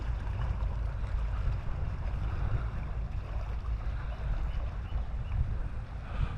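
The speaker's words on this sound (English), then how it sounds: "Oh, listen to the water, guys," Water moves along a shoreline in a low, continuous wash and rumble, with some wind buffeting the microphone and no voices.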